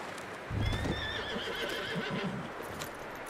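A horse whinnies loudly while hooves clip-clop in an uneven rhythm close by, over a steady background hiss, in the video game Red Dead Redemption 2.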